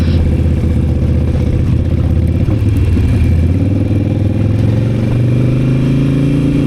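A Harley Sportster Nightster ridden on a rainy mountain road, its engine note droning loud and steady under heavy wind and road noise, rising slightly in pitch toward the end.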